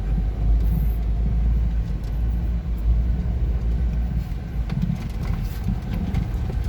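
An off-road vehicle's engine rumbles steadily and close at hand on a beach track at high tide, a heavy low drone running throughout with rough bumps and knocks over it and no talk.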